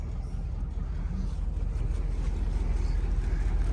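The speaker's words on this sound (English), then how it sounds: "Now both engines forward, and you're gonna pull right away from the dock." Twin engines of a trawler yacht run forward as it pulls away from a dock, giving a continuous low rumble that slowly builds in loudness, with water and wind noise and no speech.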